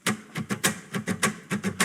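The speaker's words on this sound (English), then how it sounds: "That's the sound of his fists when they fall like a crashing pilot" A series of about a dozen sharp, heavy thuds in a steady rhythm, close and punchy, like fists striking repeatedly with no voices.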